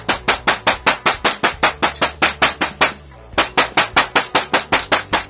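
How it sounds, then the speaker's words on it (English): The claw of a hammer strikes green sycamore wood in a fast, regular series of sharp knocks, about four per second, pausing briefly once before resuming, close and crisp. "I've decided I'm just going to go around the outside with the claw part of the hammer"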